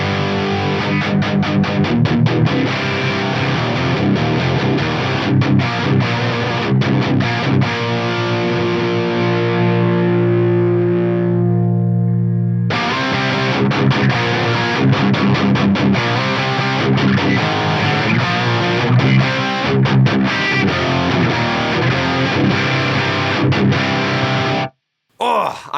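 Heavily saturated electric guitar through a custom amp with its edge control turned left, playing loud sustained distorted chords and riffs alone, with a brief quieter break midway and a sudden cutoff at the end.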